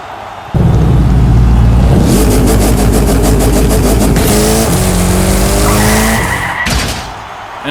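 Loud, close whirring and scraping as 1:36 scale pull-back toy cars race down a drag track, one grinding along the wall, with rising engine-like tones that fade near the end.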